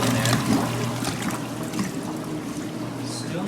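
A steady trickle and splash of water flowing from a boat engine's cooling outlet while the motor hums low and constant underneath.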